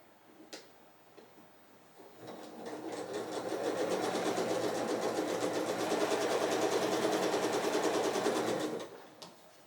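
A sewing machine stitches a star quilt block, its motor running in a steady fast whir with rapid needle ticking for several seconds after a brief start, then stopping.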